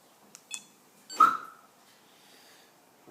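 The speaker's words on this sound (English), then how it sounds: "once you arm it, you get confirmation from the lights and the chirp of the siren" A Viper 5704 car alarm siren gives a single short chirp on arming, a brief bright tone that rings out and fades, with a couple of small clicks before it and quiet after.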